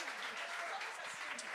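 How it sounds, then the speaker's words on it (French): Applause from a TV game-show studio audience, a steady dense patter of many hands that fills the short moment at moderate level, with voices mixed in underneath. "Allez, on l'applaudit, come on."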